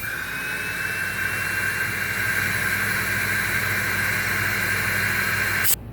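A Dust Care Evolution 6709Z dust extractor runs at full suction with a loud, steady jet-like whine and hiss that cuts off abruptly near the end, heard close up with no talking.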